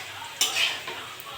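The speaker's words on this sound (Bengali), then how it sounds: "নেড়ে চেড়ে ভেজে নেবো।" Fried rice stirred and fried in a pan, a soft low sizzle with a quick scrape of a utensil against the metal near the start, brief and close.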